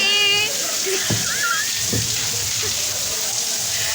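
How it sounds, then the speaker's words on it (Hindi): Steady rain patters and splashes on a surface, a constant hiss with a few louder drips, and a faint voice briefly in the background. "इतने बजे की बारिश हो रही है"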